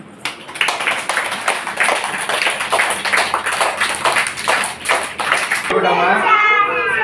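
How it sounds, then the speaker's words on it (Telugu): A group of children claps in a fast, irregular patter close by, with children's voices mixed in, before the clapping ends and a voice takes over. "ఒకసారి క్లాప్స్ కొట్టండి."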